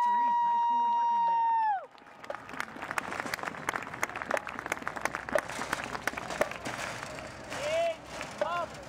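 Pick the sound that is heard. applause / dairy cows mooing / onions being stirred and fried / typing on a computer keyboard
applause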